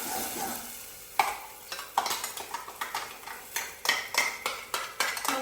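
Ground tomato chutney is stirred in a pan, a steady wet scraping and clinking of a spoon against metal, rhythmic strokes with a faint sizzle underneath, close and fairly loud.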